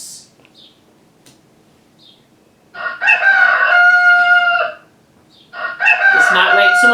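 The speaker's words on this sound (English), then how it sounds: "that's a cockerel." A cockerel crowing twice, each a loud, close, drawn-out cock-a-doodle-doo lasting about two seconds, separated by a short quiet gap with faint background sounds.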